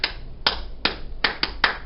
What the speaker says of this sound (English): Give a welcome clap.